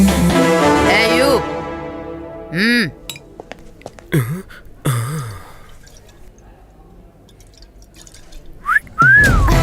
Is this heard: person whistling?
yes